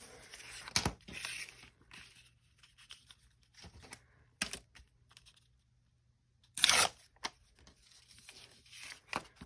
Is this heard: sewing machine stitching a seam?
no